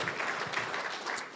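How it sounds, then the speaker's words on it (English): An audience applauds after a man is introduced at a community talk event, steady diffuse clapping that is fairly quiet and continuous for a brief moment. "give him a round of applause."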